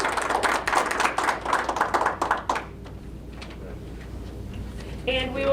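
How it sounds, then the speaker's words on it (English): A small group claps briefly at a Thursday morning coffee gathering, a few seconds of scattered hand claps that stop abruptly, leaving quiet room tone and a short burst of voices at the end. "if we could all give a round of applause for Monte"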